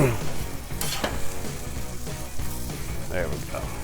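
Beef burgers sear over a two-zone grill with a continuous loud sizzle and spitting crackle close up, broken by short scraping and clattering bursts as the patties are moved.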